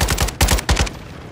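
Gunfire in a military video game comes as a rapid automatic burst, several quick, loud, close shots in about a second, with no one talking over it.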